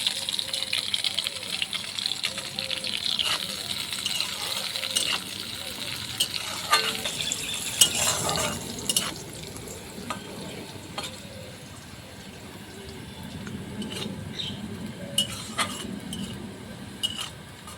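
Carrots turning and frying in mustard oil in a pan, a steady close sizzle with scattered scraping and clinking of a spatula against the metal.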